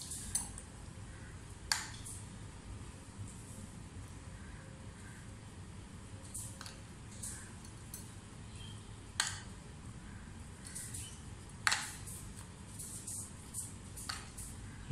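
Spices being stirred into a bowl of chicken marinade with soy sauce and oil for Lahori chicken chargha, with a spoon clinking against the bowl in several sharp taps over soft, steady mixing.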